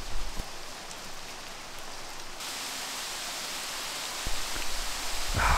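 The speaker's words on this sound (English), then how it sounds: "It's not just raining, it's raining ice." Freezing rain with ice pellets falling outdoors on a wet, cold day near 37 degrees makes a steady broadband hiss that swells slightly louder partway through, with a few sharper patters near the end.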